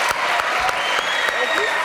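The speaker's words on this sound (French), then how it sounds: "Applaudissements." Studio audience on a French TV talk show breaks into loud, dense applause that fills the whole moment, with faint voices mixed in beneath the clapping.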